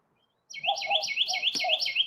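A pet bird chirps close by in a steady run of quick, bright, repeated tweets, loud and alone after a short silence.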